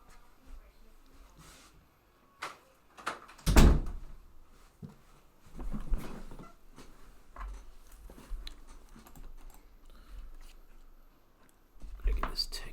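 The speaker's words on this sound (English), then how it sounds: "You can't close the door or something." A door shuts with a sharp, heavy thud, followed by quieter shuffling and handling noises, with a voice speaking now and then.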